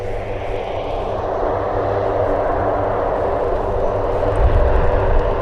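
An aircraft takes off at RAF Mildenhall after a touch-and-go landing, a loud, steady engine roar rumbling through the whole stretch and swelling slightly toward the end.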